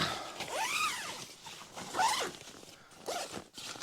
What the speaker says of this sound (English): Next thing I want to do, I want to unzip this up.